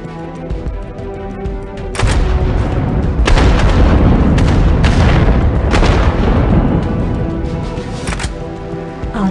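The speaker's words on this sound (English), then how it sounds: "Begin with an artillery strike." Artillery strike explosions in War Commander Rogue Assault arrive as a run of loud, heavy booms and rumbling blasts. They start after a quiet opening and merge into a sustained thunderous barrage.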